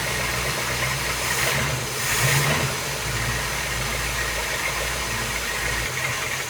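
An old yacht's twin big-block engines idle after starting, a loud, steady low rumble with a rough, knocking pulse that swells slightly partway through, close and without talking.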